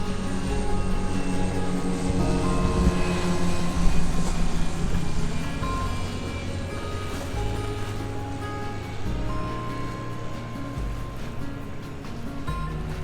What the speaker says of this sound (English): Oh wow, there's an airplane coming